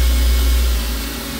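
A Hardinge GT 27SP super-precision CNC gang tool lathe spindle runs at 3,000 RPM, giving a loud, close, steady whirring hum with strong low rumble, easing slightly in level toward the end.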